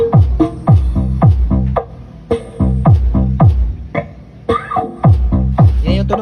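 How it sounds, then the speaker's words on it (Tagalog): A powered MCV D15 speaker driven by a Tosunra 850W amplifier plays music through channel 1, with punchy repeated bass thumps in a steady beat, loud and close. "Yan yung tunog ng ating channel 1 boss."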